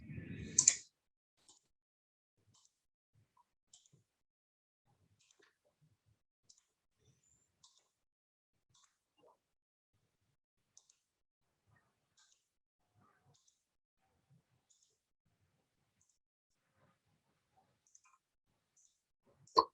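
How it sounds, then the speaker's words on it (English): Computer mouse clicking while drawing a polygonal lasso selection in image-editing software, faint sparse single clicks spaced irregularly across a quiet background. "I'm just going to click around like this."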